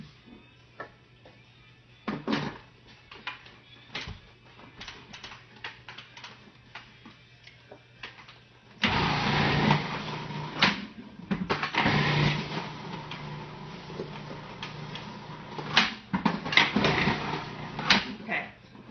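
A food processor grates zucchini, the motor kicking in partway through as a loud, rough, steady whir with brief dips, heard close up among kitchen clatter and some talking.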